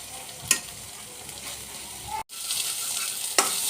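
Mashed vegetable with fried onions sizzles as it is stirred and dried out in a wok. A steady frying hiss runs throughout, broken by a few sharp scraping strokes and one brief gap, with no talking.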